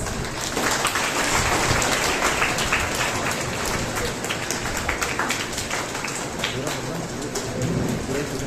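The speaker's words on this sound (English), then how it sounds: "Let's welcome them with a big round of applause" Students and staff at a school investiture ceremony give a round of applause welcoming dignitaries to the dais, dense continuous clapping that sounds a bit like rain and holds steady throughout.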